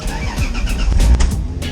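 A Lexus SC300 drift car with a newly installed steering angle kit revs its engine in short, loud surges, close and with no one talking.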